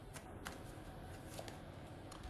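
Tarot cards being shuffled by hand, soft papery riffles and taps in a few short bursts over a quiet background.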